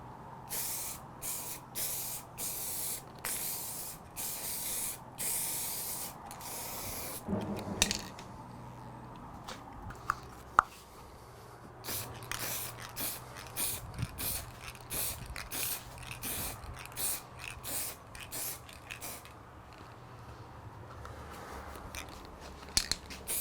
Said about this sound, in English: we'll spray it in here and see how we get on